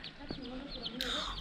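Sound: chickens clucking near a henhouse

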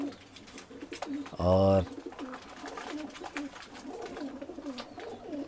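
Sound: Lalsare pigeons cooing

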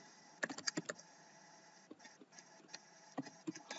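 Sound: computer keyboard typing

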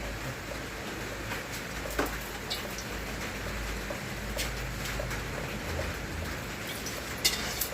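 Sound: oil gently sizzling while cooking

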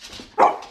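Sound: dogs barking, waiting for treats

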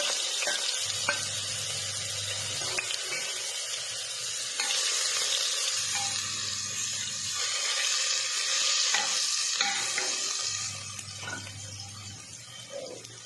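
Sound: garlic, ginger and green chili sautéing in tempering

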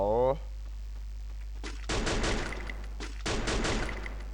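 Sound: M60 machine gun firing in the video game Free Fire

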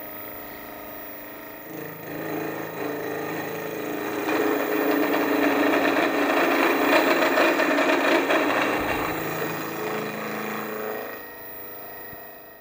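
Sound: shaper milling head taking a 0.5 mil finishing cut

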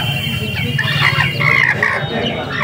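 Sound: chickens clucking

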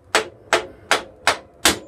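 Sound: hammer striking motorcycle axle

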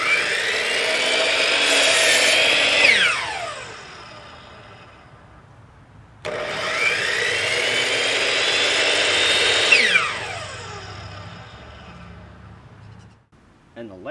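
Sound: heavy-duty chop saw cutting, powered by power station

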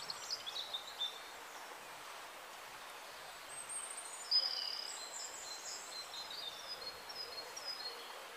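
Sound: birds singing by a quiet river

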